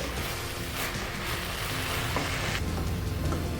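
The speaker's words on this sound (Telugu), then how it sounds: "ఇలా ఒకసారి బాగా మొత్తం మిక్స్ చేసుకోవాలి" Gongura leaves cooking in a pan while being stirred and mixed, a steady, close sizzle with rain-like crackle and a few soft scraping strokes, with no talking.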